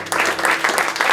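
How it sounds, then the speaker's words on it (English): Audience applause in a small live-music room, a brisk burst of clapping that picks up suddenly and stays lively. "please give the biggest round of applause of the night for the entire Clark family who are opening up"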